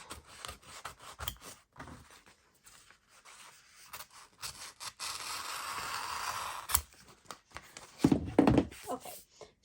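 Scissors cutting a piece of Heat and Bond fusible adhesive sheet for a craft project, soft rubbing snips and rustles up close, with quiet talk in between.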